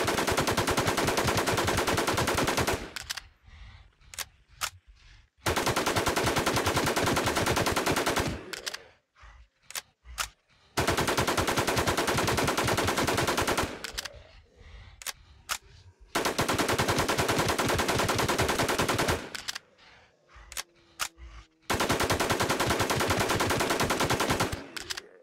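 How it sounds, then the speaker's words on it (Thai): M4 rifle with a Reggae skin fired during a boss fight in the shooter game Infestation: long, loud automatic bursts, each several seconds of rapid cracks, broken by short quieter pauses. "เดี๋ยวผมจะไปยิงต่อยาวๆจะไม่ได้พูดแล้วเหมือนเดิมนะครับ"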